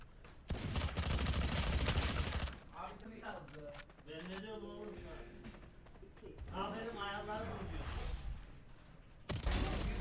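Rapid spray of automatic gunfire in Valorant, a dense burst of shots at the start followed by further bursts, with players talking over much of it.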